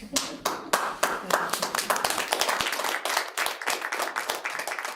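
An audience claps at a school board meeting, a dense run of sharp handclaps lasting the whole stretch at moderate loudness, with a few voices mixed in underneath.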